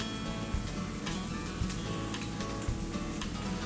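Eggs frying in a pan until crispy brown, a soft, steady crackling sizzle with scattered small pops and ticks, fairly faint and close with no talking.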